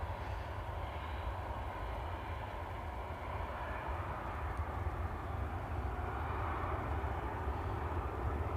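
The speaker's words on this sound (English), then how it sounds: "this is the final Jet2 757 passenger flight, just arrived from Geneva" A 37-year-old Jet2 Boeing 757 arriving on its final passenger flight from Geneva, heard as a steady, loud jet engine roar that holds for several seconds without a break, with no voices.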